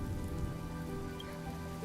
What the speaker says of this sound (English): Without this rain